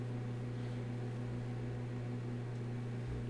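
A microwave oven runs with a steady, low, even hum and a faint mechanical whir, unbroken and alone.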